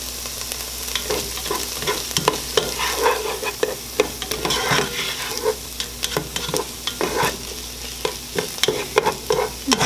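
Onions frying in bacon grease in a pan for a corn and potato chowder, a steady close sizzle broken by frequent sharp scrapes and clicks of stirring, with no voices.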